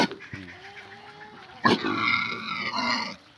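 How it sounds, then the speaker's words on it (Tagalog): Native pigs on a hillside farm give off low grunts and snorts, with a louder burst partway through followed by a busy stretch of animal noise; the sounds are close and fairly loud. "ang lalaki ng mga native na baboy nila"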